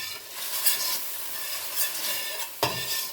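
Sazon seasoning sizzles in hot oil in a pot for Puerto Rican yellow rice, with a steady close hiss and a few scraping stirs of a spoon.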